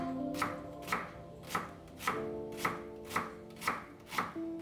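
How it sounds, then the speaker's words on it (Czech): A knife dices onion into small cubes for svíčková, giving about eight evenly spaced, crisp chops on a cutting board, close and clear, with no voices. "Cibuli pokrájím na malinké kostičky."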